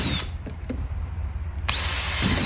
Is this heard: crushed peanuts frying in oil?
no